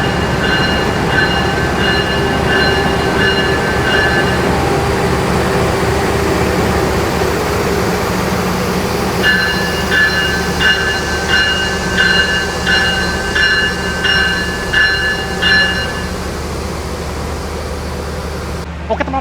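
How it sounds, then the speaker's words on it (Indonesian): Type CC 206 13 12 locomotive being shunted at Probolinggo station: a steady, loud diesel drone with a repeating tonal whine in bursts, continuous for about twenty seconds. "itu tadi lokomotif baru saja dilansir dan siap untuk melanjutkan perjalanan ke arah Surabaya lagi"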